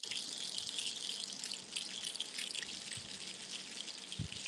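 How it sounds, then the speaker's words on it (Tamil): A seed-filled percussion instrument hisses and patters like steady rainfall, a continuous soft shower of tiny clicks, close and quiet, with no talking. "இதோட சத்தம் வந்து பாத்தீங்கன்னா இந்த மலையெல்லாம் பெஞ்சா எப்படி இருக்கும் அந்த மாதிரி இருக்கும் சத்தம்"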